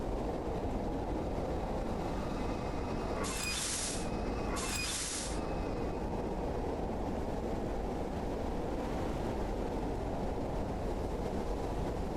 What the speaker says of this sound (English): That's just the tram.